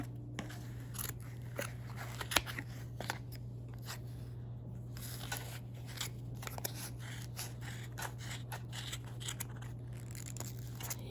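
Scissors snip crochet yarn during the making of a two-colour baby hat, a string of small crisp cuts that sound close but quiet over a steady low hum, with no talking.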